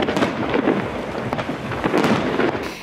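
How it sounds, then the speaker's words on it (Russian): Festive fireworks salute over a Sochi city celebration at night, a dense continuous roll of loud bursts and crackles with no pauses, heard from a distance. "Завершился вечер праздничным салютом."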